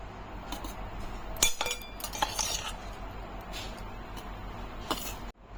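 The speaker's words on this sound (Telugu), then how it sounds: "మూత పెట్టేస్తాను." Metal clinks and scrapes as a lid goes onto a pot of Katteparigulu mamidikaya curry on the stove, several sharp close knocks over a faint background hum.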